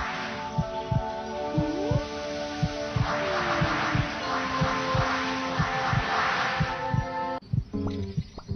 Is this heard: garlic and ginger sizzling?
no